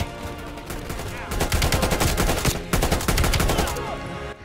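Rapid turret gunfire in Call of Duty Black Ops Cold War, loud and sustained automatic bursts with a brief pause midway, layered over game ambience.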